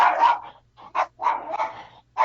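Several dogs bark in bursts nearby, a cluster of loud overlapping barks followed by a few shorter yaps and another volley, with no talk over them.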